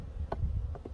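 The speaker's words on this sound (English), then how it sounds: "the bees are somewhere over here" Honey bees buzzing around Layens hives outdoors, a low steady hum with a few brief nearer buzzes as individual bees pass close by.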